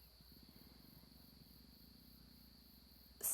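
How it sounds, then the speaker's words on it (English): Crickets chirp steadily outside a house at night, a faint continuous pulsing trill with a quiet hum underneath and a brief louder bump at the very end. "I'm sorry if you can hear the crickets outside my house"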